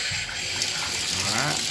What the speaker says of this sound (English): We're going to turn the water back on the inside.